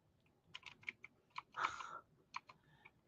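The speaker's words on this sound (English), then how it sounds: "I'm just typing in letters with the hope that BA." Quiet typing on a computer keyboard, a few irregular soft key clicks with a short flurry in the middle, close and alone.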